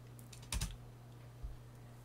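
Typing a command on a computer keyboard in a quiet room: two short clusters of close, crisp key clicks, the second lighter and briefer, over a faint low electrical hum.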